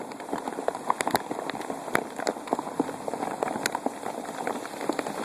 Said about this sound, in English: We're still getting hammered in this hail.